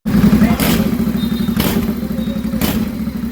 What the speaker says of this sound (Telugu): మనం సైలెన్సర్ ఓపెన్ చేసినాక రా సౌండ్ అయితే విందాం